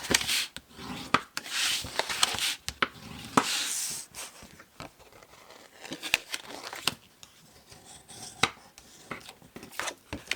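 Gentle rubbing and scraping on a lidded wooden gift box during burnishing, quiet irregular strokes close up with occasional sharper knocks and brushing sweeps.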